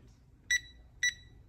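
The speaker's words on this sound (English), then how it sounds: "See, here beeping." A multimeter clamp meter on a powered HVAC cable gives two short, sharp beeps about half a second apart, clear and close in a quiet room.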